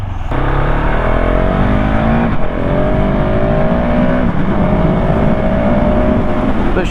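A 2019 KTM 690 SMC R supermoto motorcycle accelerating hard, its loud single-cylinder engine rising in pitch through several gear shifts, close and continuous with no talk.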